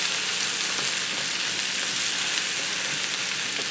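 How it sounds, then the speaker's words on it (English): Sliced mushrooms and onions saute in a hot skillet, a loud, steady sizzle that continues unbroken without any talk. "I'll allow this to saute for about 5 minutes, stirring it occasionally so that onions and mushrooms soften up"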